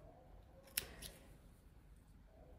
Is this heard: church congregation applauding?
no